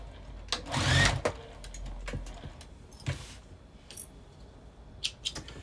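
A sewing machine runs in a short burst, back-stitching the seam of a tea bag wallet, then gives a few sharp clicks and taps as it stops.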